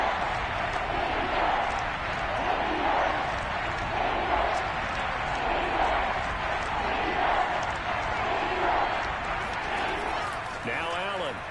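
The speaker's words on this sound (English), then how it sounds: "The crowd getting into it as we come up on a big 3rd down." A football stadium crowd in the Madden 22 video game, during a Bills versus Dolphins game, roars in a steady, dense wash of cheering and noise that builds toward a big third down, with commentary talk running over it.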